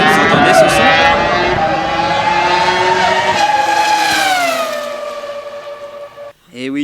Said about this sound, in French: une Formule 1, la Renault R25, le moteur V10